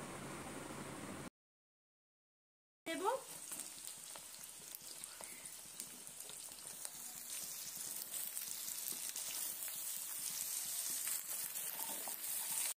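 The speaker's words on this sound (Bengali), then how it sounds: "পেঁয়াজের সঙ্গে সুন্দর করে ভেজে নেব" Ridge gourd and potato fry with onions in oil, giving a soft, steady sizzle and crackle. A short silent gap comes first, then a brief scrape, then the frying runs on quietly and swells slightly.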